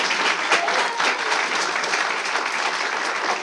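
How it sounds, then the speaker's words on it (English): An audience gives a round of applause for a guest at the end of a discussion event, sustained dense clapping at an even level throughout. "I'd like a big round of applause for Jean-Paul"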